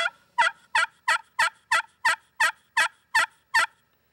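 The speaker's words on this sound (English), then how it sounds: "The latest rage is an aluminum call, and I love an aluminum call. It's just a little higher pitch" Aluminum turkey call worked in small circles, producing eleven sharp, evenly spaced yelping notes in a steady rhythm, loud and close with no voices.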